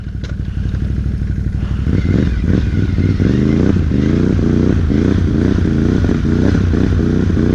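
A Can-Am Renegade XMR 1000R ATV fitted with a Torq Locker crawls slowly with all four wheels driving. Its engine idles steadily, then pulls in a run of close, rhythmic low revs.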